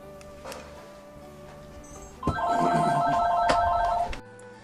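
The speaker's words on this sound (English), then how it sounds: "it was a phone call" A telephone rings indoors with a steady electronic warbling tone lasting about two seconds, preceded by faint room noise and a soft knock, then cut off abruptly.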